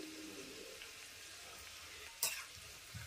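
Green chilies and curry leaves frying in hot oil for a tempering, a quiet, even sizzle throughout with a sharp crackling spurt as leaves hit the oil, then a light clink; no talking.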